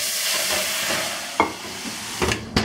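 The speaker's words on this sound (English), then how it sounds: "the trick is a lot of steam" Steam hisses inside a hot oven as bread goes in to bake on a baking stone, a steady broadband hiss overlaid by a few sharp clunks and knocks of oven handling, close by.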